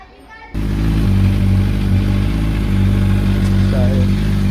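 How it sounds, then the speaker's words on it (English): A Suzuki GSX650F motorcycle engine fires up after a brief quiet moment and settles straight into a steady, loud, even idle that runs unchanged to the end. "And if I start the bike"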